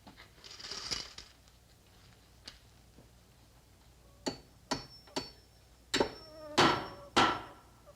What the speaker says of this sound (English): A hammer to hammer nails.